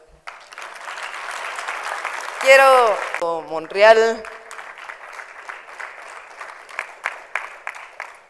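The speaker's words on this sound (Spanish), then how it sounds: "Quiero también un aplauso." Audience applause at a political gathering, steady dense clapping throughout with a voice briefly speaking over it midway.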